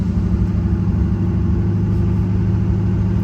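A truck engine rumbles steadily from inside the cab while driving, a low continuous drone with no break or change in pace; the truck's 4L60E transmission has failed.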